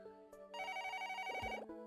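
A telephone rings in the video game Another Code: R, giving a steady electronic ringing tone. It is fairly quiet and clear, cuts off briefly, then sounds again over a faint background.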